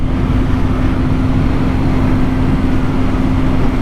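Steady, loud engine drone from a 2021 BMW R nineT Scrambler with an opposed twin engine while riding, a constant low hum under broad wind noise and no talking.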